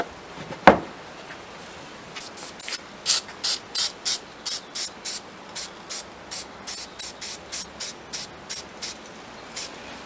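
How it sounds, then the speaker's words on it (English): Marsh ink sprayed onto wooden sign letters: one sharp initial burst, then a run of short, evenly spaced hissing spurts close up, with no voices. "and we'll spray these letters."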